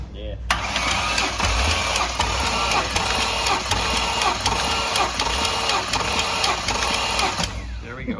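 Cammed 2004 Ford Mustang GT with a 4.6 2V V8, Kenne Bell, ported heads and Comp cams, runs loud and steady close by, its lumpy idle chop pulsing evenly the whole way through with voices talking over it.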